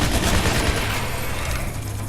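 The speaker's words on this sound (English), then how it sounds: "This heavy machine gun is okay." A heavy machine gun fires in the Shadow Warrior 2 video game, a dense loud burst of rapid shots that tails off into rumbling echoes near the end.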